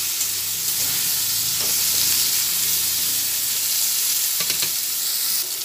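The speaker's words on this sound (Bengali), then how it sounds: "নুন দিয়ে দিলাম, দুটো দিয়ে একসঙ্গে সবজিটা ভেজে নিচ্ছি" Vegetables for shukto sizzle and hiss steadily in hot oil with turmeric and salt, a loud continuous frying crackle with occasional stirring scrapes and no talk.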